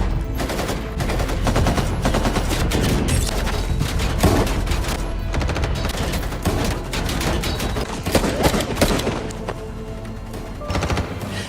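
Gunfire from a film shootout between cartel members and police outside a house, with dense bursts of automatic fire and scattered shots running continuously under a loud, busy mix.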